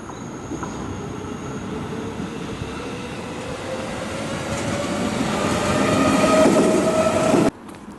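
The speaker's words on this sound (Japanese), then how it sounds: "また電車が来そうです。" An Odakyu train rumbles past at close range near a level crossing in Machida, its roar building steadily with a faint high squeal and rail hum, then cutting off abruptly near the end.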